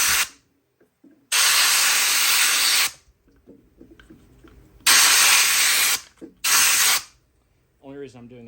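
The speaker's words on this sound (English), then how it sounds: "And I'll just take air hose from the inside." A compressed air hose blasts dirt out of a chainsaw air filter from the inside in three loud, close hissing bursts, the first two long and the last shorter, with quiet gaps of tool handling and a brief voice at the end.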